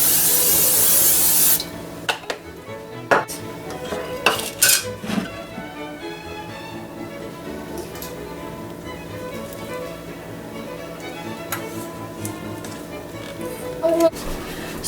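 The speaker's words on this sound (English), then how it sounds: "give this a good stir" Two cups of blueberries are stirred into cobbler batter in a bowl: a scraping, clattering spoon against the dish in uneven bursts, fairly close, after a brief loud hiss at the start.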